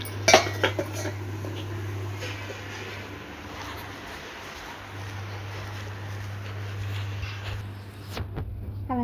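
Metal pots and vessels clatter briefly at the start and again near the end, with quiet handling in between over a steady low hum.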